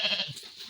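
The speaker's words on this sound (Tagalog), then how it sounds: "in-update ko lang po kayo sa mga alaga naming tupa dito sa farm" Sheep bleating on a Philippine farm, a short nasal cry that comes close and fairly loud, with a goat-like quality amid other livestock.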